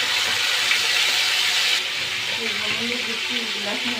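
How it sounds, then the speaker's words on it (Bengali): Chicken pieces frying in a pan on a stove for a roast, a steady broadband sizzle that is loud and close, softening slightly partway through as faint sounds of movement come in. "মুরগির ভাজা হচ্ছে"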